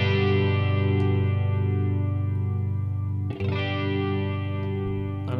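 Overdriven guitar through a Boss Katana MkII with chorus, low depth cranked fully up, rings out in a long sustained chord, then is struck again about two-thirds through and keeps shimmering on its own.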